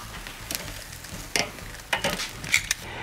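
Peppers roasting on a grill alongside store-bought sausages give a steady low sizzle and crackle, with a few sharper pops and faint metallic clinks of utensils, close and moderately loud, no voices.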